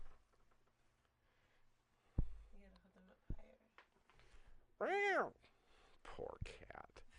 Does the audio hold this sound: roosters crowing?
no